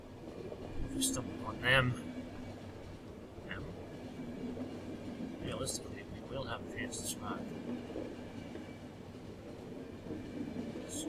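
Train running in The Final Station, a low steady rumble under a voice, with scattered clicks and sharp mechanical blips over it.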